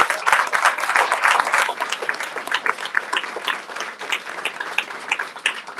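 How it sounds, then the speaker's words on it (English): Sustained applause from an audience at a community press conference, dense and steady clapping from many hands filling the room, close and fairly loud, easing slightly toward the end. "Let's give him a round of applause."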